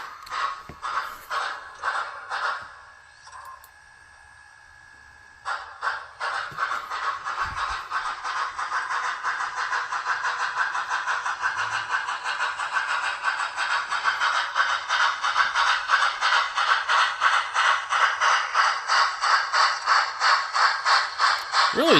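Sound from an MTH HO scale Union Pacific Big Boy 4014 model locomotive played through its onboard speaker: a continuous rhythmic chuffing and mechanical rattle, briefly thinning out, then resuming steadily for over fifteen seconds.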